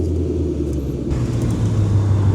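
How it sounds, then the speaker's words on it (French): A Ford Mustang's engine rumbles steadily at close range at a car event, a deep, continuous drone that thickens and grows slightly louder partway through, with no talking. "Et une Mustang."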